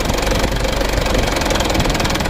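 A new car's engine idles rough and jerky, a loud, close, continuous rumble with uneven pulsing and knocking throughout, and no voices.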